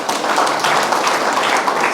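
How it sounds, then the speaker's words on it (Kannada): An audience at a closing ceremony claps loudly, a dense, steady wash of applause filling the whole stretch with no gaps. "ಹೊಡಿರಿ ಚಪ್ಪಾಳೆ."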